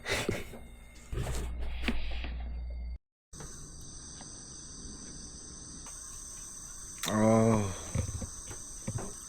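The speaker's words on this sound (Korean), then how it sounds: "매미 우는 소리 때문에" Cicadas drone and chirp in a steady high-pitched outdoor chorus at a quiet campsite, with a louder rising buzz partway through and some background rustling.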